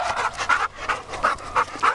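A large male dog pants in steady, rhythmic bursts close by, about six quick breaths spread across a couple of seconds with short pauses between them, with no other sound around it.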